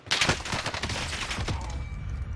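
Video game gunfire, a quick fusillade of sharp shots in the first second and a half, then a fading tail with steady background noise, loud and near, no speech.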